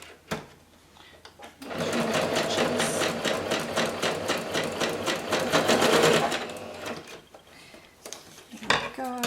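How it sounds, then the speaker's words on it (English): A sewing machine running a crooked stitch on fabric scraps, a sustained rapid mechanical chatter of needle strokes lasting several seconds, close and loud, framed by quieter handling noise. "I'm going to do a crooked stitch down here."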